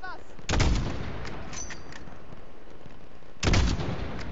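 Gunfire in Call of Duty: Modern Warfare during a highway battle around a bus, with two loud, sharp shots or bursts about three seconds apart over a steady rumbling combat backdrop.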